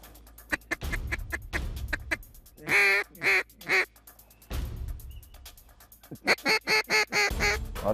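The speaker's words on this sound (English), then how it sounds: "Lots of ducks in there, lots of ducks." Ducks, including gadwall, call at a Louisiana duck hunt with repeated loud quacks and honking bursts, close and clustered in quick runs between quieter gaps.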